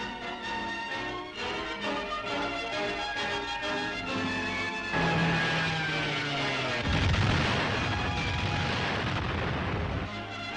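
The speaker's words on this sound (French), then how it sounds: "Le général de Linares a déclenché l'attaque en faisant bombarder les positions ennemies" Heavy artillery shelling enemy positions during a 1952 Franco-Vietnamese offensive in Tonkin, loud sustained booms and rumbling blasts rolling over a dense background of music-like tones, with no voices.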